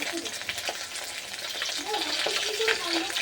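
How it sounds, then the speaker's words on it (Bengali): Fish fries in a pan in a home kitchen, a steady close crackling sizzle that grows slightly louder toward the end, with faint voices in the background. "আর এই যে হচ্ছে মাছ ভাজা, সব কমপ্লিট হয়নি, হচ্ছে মাছ ভাজাটা।"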